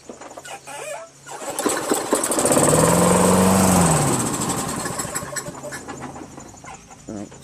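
A Toro Recycler 22-inch lawn mower with a 6.5 HP Tecumseh engine is pull-started, sputters up to a brief rising hum for a few seconds, then winds down and dies out, starved of fuel.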